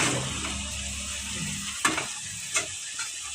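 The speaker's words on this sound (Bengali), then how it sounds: "আর একটু তেল দেব তেলটা একটু কম হয়ে গেছে এই সিদ্ধ করা আলু ঢেলে দিলাম" Boiled potatoes tipped into hot oil with spices, giving a steady frying sizzle with a few sharp clatters and scrapes as they are stirred in a pan.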